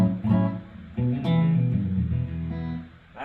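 Electric guitar plugged straight into a direct-in setup, played as a short run of clean plucked notes and chords that ring and overlap, fairly loud and alone.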